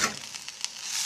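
Chopped agathi flowers tumble into a hot pan and sizzle, a steady close frying hiss with a brief crackle burst partway through, no voices.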